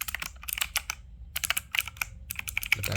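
Rapid typing on an Intex Caliber Plus wireless mechanical keyboard, bursts of crisp, close key clicks with a short pause midway.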